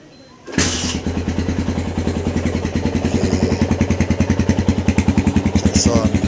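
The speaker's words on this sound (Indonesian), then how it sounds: "seperti ini suara originalnya Scorpio ini, standarnya." A stock Yamaha Scorpio Z motorcycle kickstarts and settles into a steady, close, even idle, with a rapid rhythmic thump continuing throughout.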